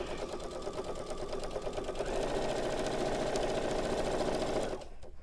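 A sewing machine with an even feed foot runs steadily and loudly as it stitches quilt binding, a continuous rapid whirring that stops abruptly near the end.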